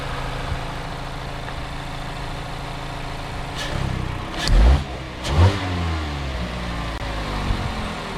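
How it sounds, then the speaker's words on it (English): A Mazda CX-5 four-cylinder engine idles steadily, then revs sharply twice in quick bursts before settling back to a low, even idle nearby. "this is like one of my favorite sounding like 4-cylinder engines"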